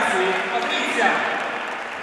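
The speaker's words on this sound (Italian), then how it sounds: "venite a raccogliere ancora il meritatissimo applauso" Applause from an audience at a sports awards ceremony in an indoor arena, a steady broad wash of clapping lasting throughout, with a voice speaking over it.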